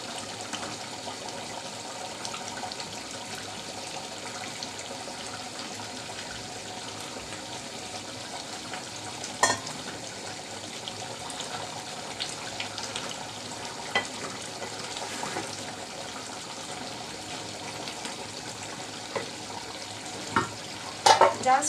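Beef and peyaju fry in a pan with steady low sizzling and occasional stirring scrapes and clinks, close and fairly quiet.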